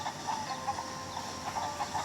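Chicken from the Pazu video game clucking softly as it lays eggs: quiet, short repeated clucks at an uneven pace over a faint background hum, with no talking.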